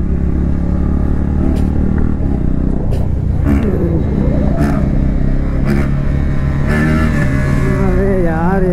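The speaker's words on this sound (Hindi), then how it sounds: "ये तो कुछ ज्यादा एग्जॉस्ट का बोझ दे रहे, देख रहे हो आरपीएम पे आरपीएम" Vehicle engines revving loudly in a street procession for Indigenous Day, a dense roaring rumble with repeated throttle surges, loud and close, with voices and crowd noise mixed in.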